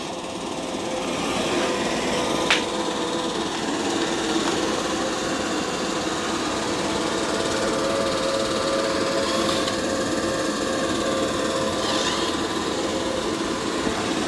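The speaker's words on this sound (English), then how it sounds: "It's going to do the mopping and vacuuming the floor" A steady mechanical whir and hum of a robot vacuum mopping and vacuuming continuously across the floor, with a few faint clicks and bumps along the way.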